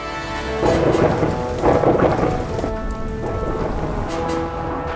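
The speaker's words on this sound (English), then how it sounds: "Tons of rain has been slamming down in Sydney, Australia." Heavy rain pours steadily during a thunderstorm in Sydney, Australia, with deep rolling thunder swelling twice over the dense hiss of rainfall, loud and close, no voices.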